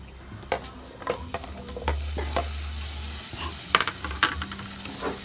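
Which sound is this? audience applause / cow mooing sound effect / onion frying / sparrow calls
onion frying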